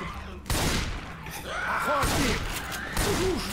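Gunfire in Left 4 Dead 2 comes through as a few sharp, loud bursts spread over a few seconds, over a steady game backdrop with some faint voice-like sounds.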